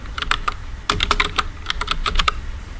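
Close, crisp key clicks come in quick bursts as someone types code on a computer keyboard, with short pauses between groups and no talking.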